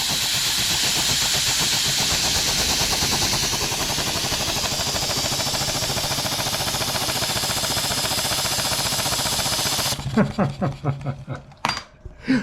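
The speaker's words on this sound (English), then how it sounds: "Little cute steam engine." A small model steam engine runs steadily in a machine shop with a continuous hiss and fast rhythmic chuffing, loud and close, until it stops near the end, leaving a few sharp clanks and knocks.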